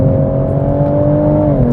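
Toyota Mk5 Supra with a B58 engine and Supersprint OPF-delete downpipe-back exhaust, stock cat retained, holding a steady, loud droning idle or rev with a deep low hum throughout.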